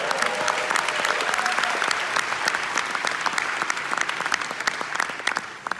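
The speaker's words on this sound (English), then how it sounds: "Applause, please!" Dense applause from an audience at a VR drawing and animation demonstration, steady and full for about six seconds with many overlapping claps, tapering slightly at the end.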